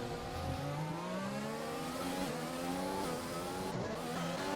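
Racing-game car engines whine steadily in an F1 online league race at Hungary, a dense, faint layer of revving and gear changes with no clear lock-up squeal standing out.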